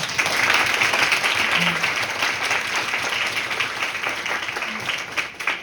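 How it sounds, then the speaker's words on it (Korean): Applause fills the hall at a Model UN general assembly session, a sustained, loud wash of many hands clapping together without letting up. "모두 큰 박수 부탁드립니다."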